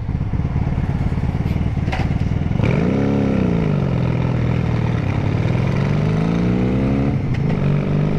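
A motorcycle engine revs hard while its clutch is being ruined, a loud continuous drone that swoops up and down in pitch, close and steady with no talk over it.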